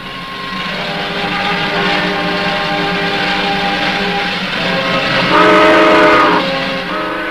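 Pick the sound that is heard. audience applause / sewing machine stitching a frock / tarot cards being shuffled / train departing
train departing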